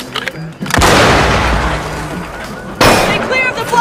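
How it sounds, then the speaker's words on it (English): A loud explosion blast in a Rainbow Six Siege match lands as two heavy booming bursts, the second more abrupt, each trailing off into a sustained roar. "Stay clear of the blast!"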